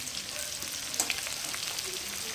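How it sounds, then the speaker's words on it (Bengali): Potatoes frying in a pan with salt and turmeric, giving a steady close sizzle with a faint stir in the middle and no talking. "আমি আলুটাকে ভাজতে থাকবো এর মধ্যে আমি অল্প একটু নুন দেব আর এক চামচের মতন হলুদ দিয়ে দিচ্ছি"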